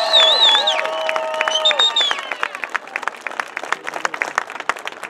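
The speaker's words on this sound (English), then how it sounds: "we need to give these guys a huge round of applause for all they do." An audience at a Raptor Regiment friends and family event opens with high whoops and cheers, then breaks into lively clapping that thins into scattered claps.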